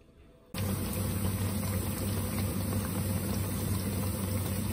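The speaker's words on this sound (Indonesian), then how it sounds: "Nah, ini waktu menggorengnya." Tempeh slices drop into hot oil and fry, bursting into a loud, steady sizzle and crackle after a brief quiet moment, continuing unbroken to the end.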